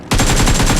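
Sustained automatic gunfire in the mobile battle royale game BGMI, a loud rapid burst of evenly spaced shots that starts abruptly after a brief quiet moment and continues without pause, with no talk.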